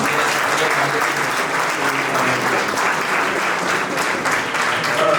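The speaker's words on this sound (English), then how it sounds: "I would request you all to please applaud for him as well" Sustained applause from a seated audience at a college Model United Nations closing ceremony, honoring the vice chair; dense, steady clapping fills the whole stretch at close range with faint voices underneath.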